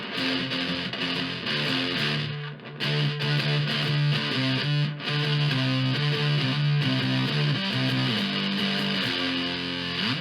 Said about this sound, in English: It's more like it's still fuzz, but it's kind of more distortion-y.